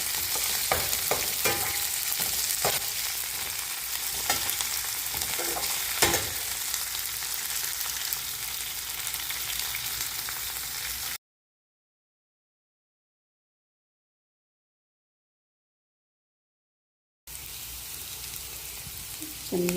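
Green chillies, ginger and onion fry in a pan for shavige upma, a steady close sizzle with stirring scrapes and clicks; the sound cuts to silence partway through, then the sizzling returns.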